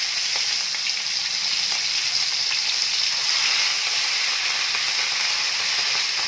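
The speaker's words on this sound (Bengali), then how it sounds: "তেলটা গরম হয়ে গেছে। এখন আমি একটা একটা করে মাছ এখানে দিয়ে দিচ্ছি।" Pieces of katla fish frying in hot oil for a Bengali fish korma, giving a steady, loud, close sizzle and crackle that holds without a break.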